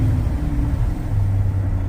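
An LS engine idles in a Chevrolet C1500 truck outdoors in snow, a steady close rumble with a low, even hum and no voices.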